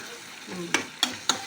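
Chicken liver curry stirred in a pan, a low simmering bubble broken by three sharp spoon scrapes and knocks against the metal, close up with no voices.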